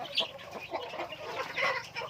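Several chickens on a chicken farm cluck and murmur close by in short, overlapping bursts, fairly quiet and continuous.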